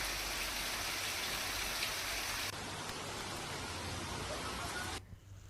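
Steady rain pours down in a continuous, even hiss across Halol taluka, fairly faint and unbroken, with no voices over it, then thinning abruptly at the very end.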